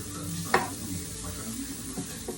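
Food browning in hot grapeseed oil in a pan, a steady close sizzle filling the clip with a brief stir or scrape partway through and a few soft clicks.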